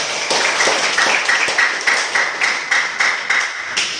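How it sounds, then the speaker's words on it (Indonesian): Students clap together in a classroom, a run of uneven, rhythmic claps at moderate loudness filling the room for a few seconds. "tepuk tangan juga."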